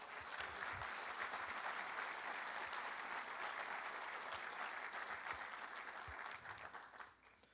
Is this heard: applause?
yes